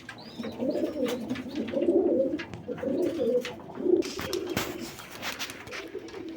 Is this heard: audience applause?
no